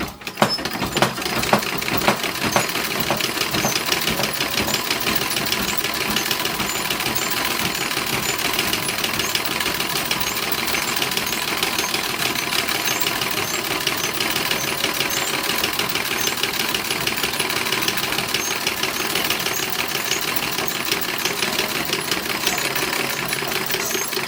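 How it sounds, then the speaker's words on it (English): A sewing machine runs continuously, stitching the waistband of a 1910s–1920s style toddler boy's underwear, its rapid, even mechanical whir holding a steady pace close by with no pauses. "so I can stitch the bottom piece via the waistband straight on top"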